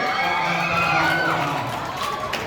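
Crowd of school supporters from Phetchabun cheering at a youth competition awards event, a loud continuous roar of many voices with shouts rising and falling throughout.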